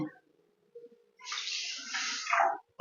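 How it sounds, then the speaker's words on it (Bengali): Water poured from a measuring cup into a pan of sugar for syrup, a steady splashing pour lasting about a second and a half, close and fairly quiet, with faint kitchen noise before it. "সেই কাপের মাপেই এক কাপ জল দিয়ে দিচ্ছি"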